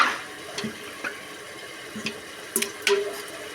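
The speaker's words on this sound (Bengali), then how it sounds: "হালকা পানি দিয়ে দেবো।" Water poured into a pan of frying spices and cumin while cooking beef curry, a few soft splashing bursts and trickles over a quiet kitchen background.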